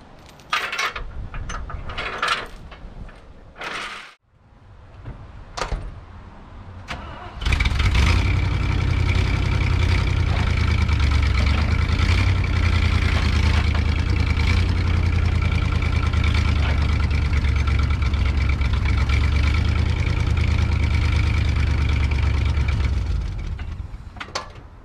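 Some clicks and mechanical rattling, then an old Ford engine cranks and catches, settling into a loud, steady idle that runs for many seconds before easing off.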